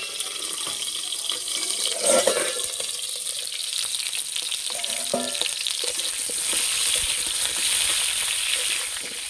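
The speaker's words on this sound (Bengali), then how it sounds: "আলুগুলো একটু ঢাকা দিয়ে ভেজে নেব, তাহলে আলুটা সিদ্ধ হয়ে যাবে" Potatoes frying under a lid in a pan for a vegetarian Kashmiri aloo dum, giving a steady close hiss and sizzle throughout with small clinks and stirring or water-like splashes, no talk.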